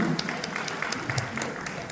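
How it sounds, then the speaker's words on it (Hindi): Steady audience applause at an International Older Persons Day celebration, a dense even patter of many hands lasting the full two seconds with no voices over it. "उनके लिए बहुत बहुत तालियां"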